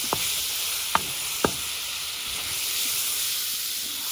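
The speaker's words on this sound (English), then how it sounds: "I just need a little bit of this fat rendered down." Bacon fat rendering in a Bayou Classic #7419 cast iron jambalaya pot: a steady, close hiss of sizzling grease, with a few sharp pops near the start and no talking.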